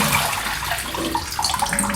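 Rinse water is poured out of a part of a PETKIT pet water fountain, a continuous close splashing and trickling pour that lasts the whole moment, with no talking.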